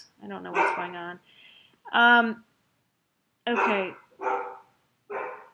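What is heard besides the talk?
dogs barking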